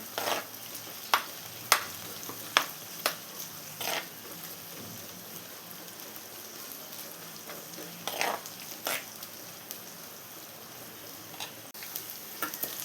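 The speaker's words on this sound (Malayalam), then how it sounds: "ഇതെല്ലാം കൂടെ നന്നായി ഇളക്കി കൊടുക്കണം" Green chillies, crushed ginger and onion frying in a pan for a fish curry, with a soft continuous sizzle broken by sharp ticking taps of a spoon against the pan, close and fairly quiet.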